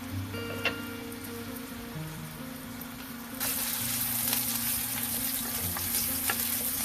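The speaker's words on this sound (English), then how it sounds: "You will stir fry the shallot first." Steady sizzling and crackling of shallots stir-frying in a hot pan, growing louder and busier partway through, with a low hum underneath.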